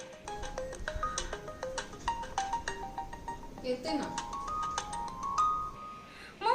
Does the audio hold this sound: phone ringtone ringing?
yes